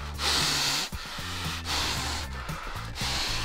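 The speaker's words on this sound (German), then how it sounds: "Wieder atmen in die Tüte," Heavy, rhythmic breaths into a paper or plastic bag, in a classroom where a student is calming down; three loud hissing inhale-exhale cycles close to the microphone, with low murmur behind.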